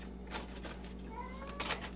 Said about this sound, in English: My cat sounds like she wants to throw up.